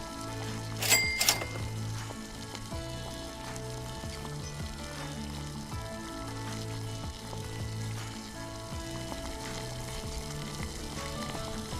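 Anchovies fry in a pan for a spiced taro-stem gulai, giving a steady, moderate sizzle throughout, with faint clinks and a brief sharper rattle near the start.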